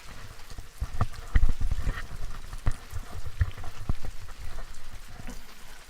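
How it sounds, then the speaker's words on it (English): Rain falls on a shore at high tide while waves crash, heard as a dense continuous patter and wash with heavier surges rising and falling, close and fairly loud. "the waves were crashing really well"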